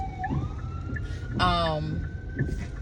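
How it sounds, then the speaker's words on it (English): A siren wails with a rising tone, then a brief harmonic blare, heard over low background rumble and faint voices. "Sirens."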